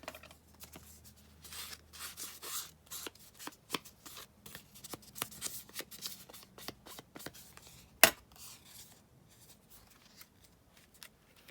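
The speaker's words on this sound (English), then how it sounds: "So let's just snip this down like that." Scissors snip through paper while an envelope for a junk journal is trimmed, giving a quick run of crisp, close cuts with one sharper snap partway through, and no talking.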